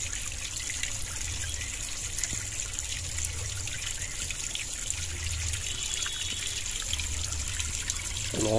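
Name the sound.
water trickling out of mountain caves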